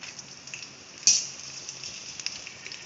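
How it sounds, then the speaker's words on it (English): A soft, steady sizzle of beans and vegetables frying in olive oil for veg jalfrezi, with a sharp clink of a utensil partway through. "So we will fry all these ingredients one by one."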